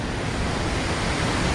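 Roaring NungNung waterfall in Bali, a steady, dense rush of falling water that stays loud and unbroken throughout, with no voices.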